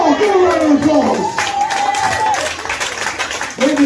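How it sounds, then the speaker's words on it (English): A crowd at a Samoan church Father's Day gathering applauds with dense, steady clapping and some cheering, a voice calling out over the noise in the middle. "give a round of applause"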